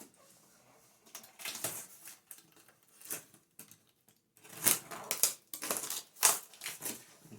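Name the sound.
cardboard box being cut and opened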